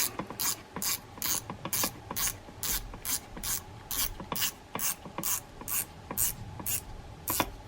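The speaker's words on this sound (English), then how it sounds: "Now, tighten up your drag adjuster." Drag adjuster on a Shimano Saros 4000 spinning reel being turned, giving a steady, rapid series of sharp ratcheting clicks in regular bursts, very close and alone.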